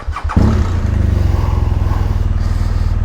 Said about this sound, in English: let's take this 2015 GS for a rip with their finely tuned forks and stuff